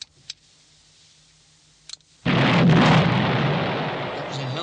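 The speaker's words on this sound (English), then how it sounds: "That was a hell of a bang." A bridge blown by military demolition charges in wartime erupts in one sudden, loud blast after a couple of faint clicks, then a sustained rumbling roar of debris and reverberation that slowly tapers off.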